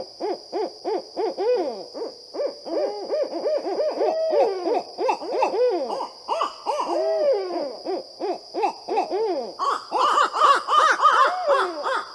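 A human voice imitates an owl, giving a long run of repeated hooting calls in quick bursts, loud and close with brief pauses between phrases.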